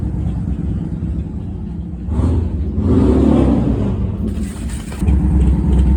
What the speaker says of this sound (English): make all this noise with these motorcycles